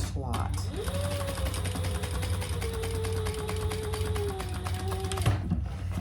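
Sewing machine stitching a row on a clutch, a steady continuous mechanical whir with a rising then level hum for about five seconds before stopping, close and moderately loud.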